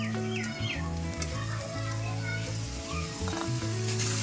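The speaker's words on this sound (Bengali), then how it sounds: "টমেটো কুচানোটা আমি এখন দিয়ে দিচ্ছি" Chopped tomatoes going into a spice paste being fried for a potato and fish curry, a steady busy sizzle with stirring, and faint voices and household sounds in the background.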